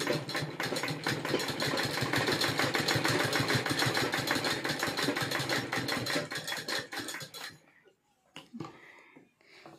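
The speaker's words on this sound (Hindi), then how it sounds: "और यहाँ भी स्टिच कर लेंगे।" A sewing machine stitches around a half-collar neckline, a loud, fast, even run of needle strokes held close for most of the span before stopping, leaving brief soft handling noises.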